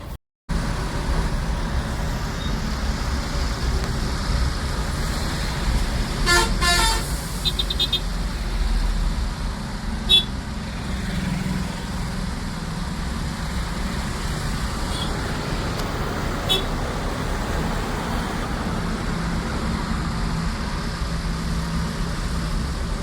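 A mini truck drives along a road, its engine a continuous low rumble under road noise, with a few brief rattles and clanks along the way.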